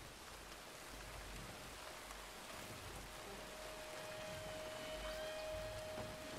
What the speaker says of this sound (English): Ugh, fucking rain.